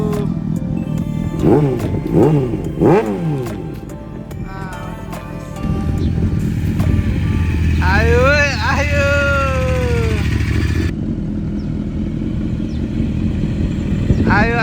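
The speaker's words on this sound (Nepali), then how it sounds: "आयो अर्को बाइक।" Sport bikes at a UK rider meet-up, including a Honda Fireblade and a CBR 600, rev and pull away, engine notes rising and falling over a steady rumble with other machines idling nearby and voices in the background.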